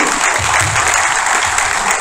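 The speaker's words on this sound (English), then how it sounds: "can we have a round of applause for our 3 panelists for today?" Steady, dense applause from a roomful of people, sustained and even throughout.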